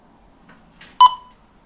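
Short electronic beeps from a key press on a Quansheng TK11 handheld radio: a couple of faint soft ticks, then one clear bright beep that rings out briefly and stops, close and alone in a quiet room.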